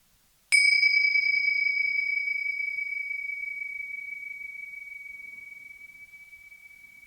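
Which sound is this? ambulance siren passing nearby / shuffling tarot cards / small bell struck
small bell struck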